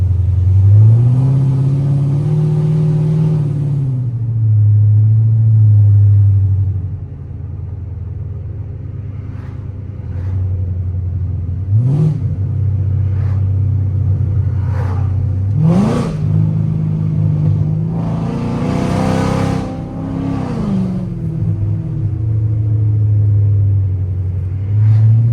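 A modified Chrysler 300C with long tube headers on an autumn road, engine rumbling close and loud through repeated revs and downshifts, with rising and falling exhaust pitch and sharp blips between gears.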